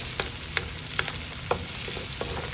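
Tomatoes and spring onion sautéing in a pan for a Filipino egg and water spinach dish, with a steady background sizzle and a few soft utensil stirring taps spaced about every half second.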